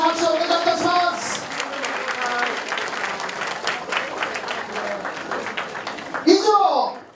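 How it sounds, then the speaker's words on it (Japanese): A crowd at a women's wrestling event applauds the award-winning wrestlers, warm sustained clapping under an announcer's amplified voice, ending with a brief louder flourish. "各賞受賞の選手に皆様盛大な拍手をお願いいたします。"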